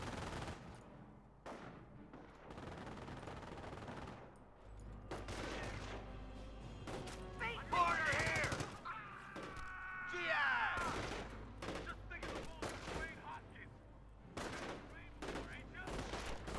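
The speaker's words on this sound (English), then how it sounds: "They're shooting at us." Battlefield gunfire in the World War II strategy game Company of Heroes, with repeated bursts and single shots crackling throughout, mixed with explosions and game effects, moderately loud and continuous.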